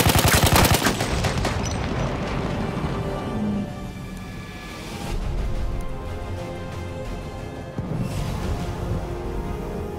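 Sustained automatic fire from an enemy machine gun in a Battlefield 1 battle at Zeebrugge, loud and close, with a dense burst of rapid shots at the start and continuous rattling gunfire and booms throughout.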